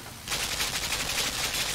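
Rapid automatic gunfire at a box in the video game Limbo, a fast even rattle of shots starting abruptly and continuing to the end, near and fairly loud with no voices.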